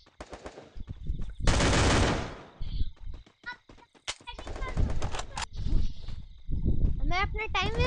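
Rapid bursts of automatic gunfire and single shots from the mobile shooter Garena Free Fire in a Clash Squad ranked match, loud and repeated across the stretch, with a voice talking over some of the firing.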